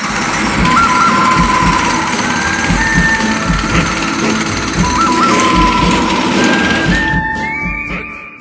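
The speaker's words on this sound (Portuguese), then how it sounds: "Com o motor em funcionamento, é só sentar na carruagem e acelerar." The small engine of a Motorssauro Dino ride-on car runs at a steady, buzzing idle with rapid mechanical chatter, then its pitch rises as it accelerates before cutting off abruptly near the end.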